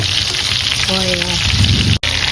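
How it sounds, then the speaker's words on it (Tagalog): Eggplant omelette topped with longganisa frying in plenty of oil, a close, steady crackling sizzle with a brief tonal clink partway through and a sudden cut near the end. "Kaya yung ginawa namin ni Missy, lagyan mo natin ng toppings before ilagay sa mantika."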